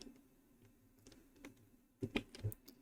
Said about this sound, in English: you're going to want to press the end key on your keyboard